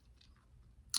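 Gum being chewed close to the mic, with soft wet smacks through most of the moment and a sharper, crisper chew near the end, no talking.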